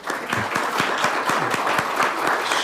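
Steady audience applause fills a school district governing board meeting room in Chandler, a dense, continuous patter of many hands clapping at moderate loudness with no voices over it.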